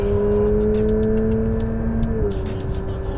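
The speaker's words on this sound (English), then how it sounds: "This is the 911 GT3 RS." A Porsche 911 GT3 RS engine hums steadily on a racetrack, a sustained tonal drone with a pitch shift near the end, while a voice talks over it.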